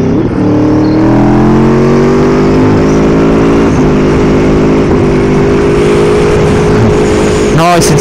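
An Aprilia Tuono V4 motorcycle engine drones loud and close while riding, holding a steady, even tone with layered harmonics and only slight shifts in pitch, plus a brief rustle near the end.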